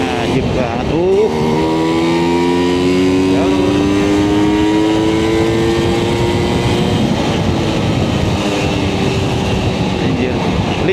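A Vespa Special 90 scooter engine revs up hard on a road through Sleman, its buzzing note climbing steadily in pitch as it accelerates, loud and close for the whole stretch.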